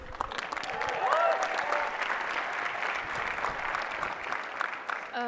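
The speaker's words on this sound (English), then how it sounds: "Give it up for Haley" An audience applauds steadily for about five seconds, the clapping sustained and fairly loud throughout, with a brief vocal whoop rising over it early on.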